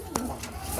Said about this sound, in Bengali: আমার গোল্লা কবুতরের বাচ্চা দুইটা